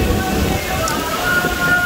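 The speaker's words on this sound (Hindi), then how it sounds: "कितनी तेज़ रफ्तार बारिश हो रही है यहाँ पर" Heavy rain pouring down in Karachi, a brief dense hiss of falling water on surfaces, close and steady, with a low rumble beneath and no voices.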